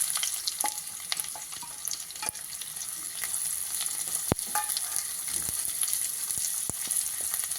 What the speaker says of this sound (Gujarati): સૌથી પહેલાં આપણે ડુંગળી અંદર ફ્રાય કરશું